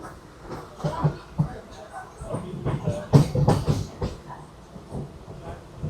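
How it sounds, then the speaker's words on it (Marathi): A packed 7:39 Goregaon local commuter train rattles along with rhythmic clattering and hiss, while voices murmur close by throughout. "सेवन थर्टी नाईन गोरेगाव ट्रेन खचाखच पॅक झालेली आहे"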